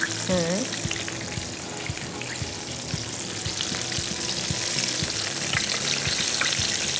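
Chicken wings frying in a pan over low heat, a continuous close sizzle with scattered taps and stirring clatter and a brief voice near the start.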